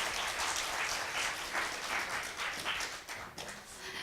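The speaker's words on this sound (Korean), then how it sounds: "여러분 다시 한번 큰 박수 부탁드리겠습니다." Audience applause at a morning Korean traditional music concert, a steady crowd of clapping hands heard at moderate distance that thins slightly near the end.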